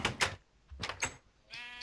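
Sheep in the Minecraft Skyblock video game bleat several times in quick succession, short nasal calls that sound close and clear, with no talking over them.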